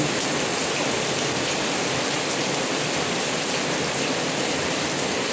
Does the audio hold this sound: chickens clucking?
no